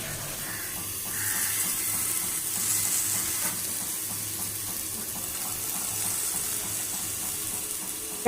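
Fish sizzles in a pan of hot oil, a steady, fairly quiet frying hiss with faint crackles and occasional stirring or clinking, no voices.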